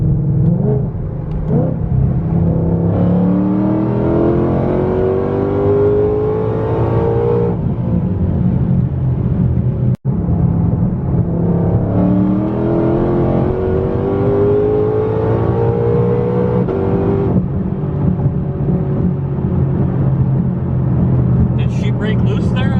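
A Ford Mustang GT500 accelerates hard through its gears in a street race, a loud close engine roar climbing in pitch, dropping at a shift, then climbing again, heard from inside with voices talking over it.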